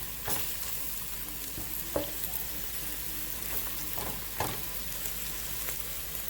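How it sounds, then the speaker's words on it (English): Garlic browning in oil in a frying pan: a steady, fairly quiet sizzle runs throughout, broken by a few sharp stirring scrapes near the start, midway and later on. "Get those little garlics browned up a bit."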